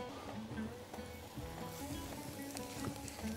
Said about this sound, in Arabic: البهارات بحمرها مع البصلايه والتوميه